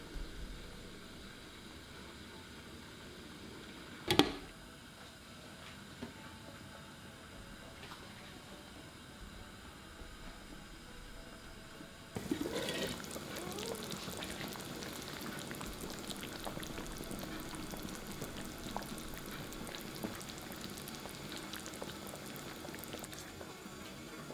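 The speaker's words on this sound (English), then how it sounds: "Bring it to a simmer, turn to low heat. Transfer in the pork belly and cook for 2 hours." Pork belly for ramen chashu simmers in a pot on low heat, a soft, faint bubbling hiss with a sharp knock early on and a louder, denser stretch of bubbling in the second half.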